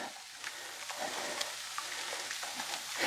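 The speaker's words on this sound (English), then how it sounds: "I just want it to saute just for a couple of minutes, and it's looking so pretty. Okay, so let's get this stirred around." Vegetables sauté in a hot pan for a broccoli casserole, giving a steady soft sizzle with scattered scraping taps from stirring, close and moderately quiet with no talking.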